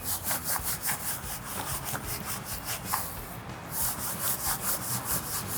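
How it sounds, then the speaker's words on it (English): A barrel brush scrubs a car wheel rim coated in Diablo Wheel Gel, giving steady rhythmic bristly rubbing strokes, close and continuous, with no talking. "So I'm gonna start off with my barrel brush, pick up some of my Diablo solution,"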